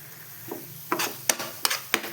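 A round gourd (dhemase) curry sautéing in a pan, with a few sharp scraping stir strokes against a soft sizzle, close and fairly quiet, no talking.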